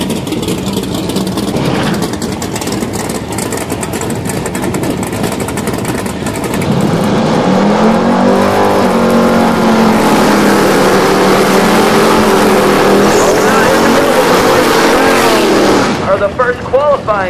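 Modified class drag race cars launch down the London Dragway, idling engines rumbling before a loud surge of roaring, rising revs that howls steadily and then cuts off, with an announcer's voice over the early part.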